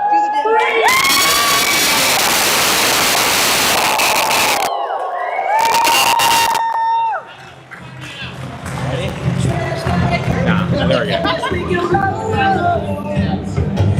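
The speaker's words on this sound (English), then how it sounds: "I want everybody to cheer as loud as you can" A crowd at a family event cheers and shouts loudly, children's voices prominent, in two bursts before the noise gives way to music.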